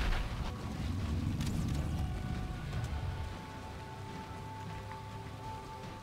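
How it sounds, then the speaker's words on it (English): Acid rain in the video game Valheim: a steady hiss of rainfall with scattered patter, louder at first and then settling to a softer, even wash. "It's raining acid?"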